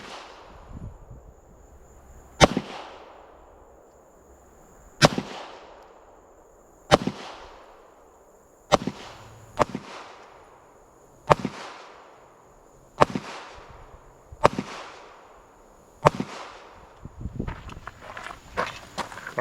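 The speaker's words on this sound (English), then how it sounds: "I'm going to shoot the MPA at the spot on the left, and I'll shoot the Girsan over here on the right" Pistol shots from an MPA DS9 and a Girsan Match 2311 firing Blazer ammunition at an outdoor range, ten sharp cracks spaced about two seconds apart, each with a short echo, followed by light rustling at the end.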